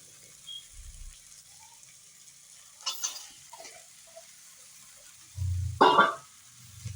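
A bottle gourd goes into a pan of cooked masala with yogurt and oil and is stirred: a few soft thuds and a short burst of clattering scrapes, quiet and sparse, with no talking.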